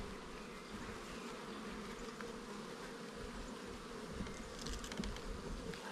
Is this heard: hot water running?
no